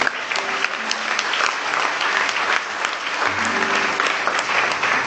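Audience applause at an honorary doctorate conferment ceremony, dense continuous clapping from a crowd filling the whole moment, fairly loud and even.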